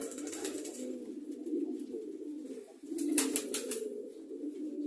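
Pigeons coo in low, rolling calls close by, one bird overlapping another, with a few brief sharper rustles or wing flutters between them.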